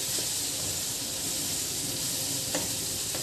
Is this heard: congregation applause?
no